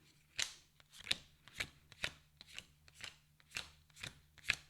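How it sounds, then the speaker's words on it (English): Two tarot card decks are riffled together by hand, in about eight crisp, papery shuffling bursts spaced evenly and heard close up in a quiet room. "shuffle the 2 tarot card decks together."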